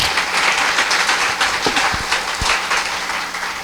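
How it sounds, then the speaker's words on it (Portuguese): An audience at a lecture breaks into steady, lively applause, many hands clapping together in a dense, continuous burst. "por favor, uma salva de palmas para a nossa presidente"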